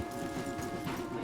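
Horse hooves clip-clop steadily in Red Dead Redemption 2 as riders slow on a wooded trail, a brief muffled plodding over a low ambient bed, with no talk.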